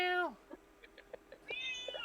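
A cat meows in two distinct calls, one falling cry at the start and a higher, longer one near the end, with faint light taps between them indoors.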